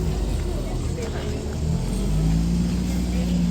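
Black Ferrari California sports car driving past during summer car spotting, a steady low engine drone throughout, loud and close, with a voice talking over it.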